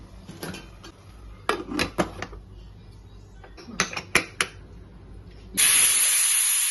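Kitchen clatter and knocks, then a loud steady hiss of steam rising from a pot on the stove as vegetables for Kerala avial steam with water, turmeric, salt, green chilli and coconut oil.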